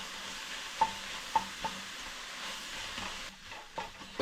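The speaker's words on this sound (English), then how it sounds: "tomato paste is in. Alright, mix all together." Beef stew being stirred in a pot after tomato paste goes in, a soft continuous scraping with a few sharp clicks of the spoon against the pot, steady and close.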